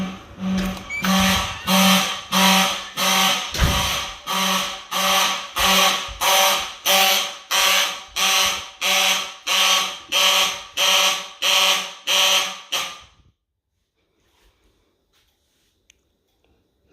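Fire alarm horns sound during a system test, blaring in a steady rhythm of about sixteen loud bursts roughly every three-quarters of a second, then stopping and leaving near silence.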